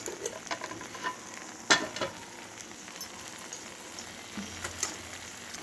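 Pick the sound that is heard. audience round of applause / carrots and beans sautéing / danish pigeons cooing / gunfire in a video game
carrots and beans sautéing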